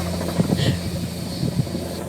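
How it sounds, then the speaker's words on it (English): A helicopter's rotor chops steadily with a low droning hum over a smoky California wildfire area, continuous and fairly loud throughout. "You can hear the helicopters."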